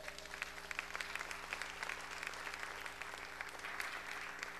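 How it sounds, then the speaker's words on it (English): A church congregation gives a hand clap for the pastor's wife, a soft, steady patter of many hands heard at some distance over a constant low hum. "Give my wife a hand clap."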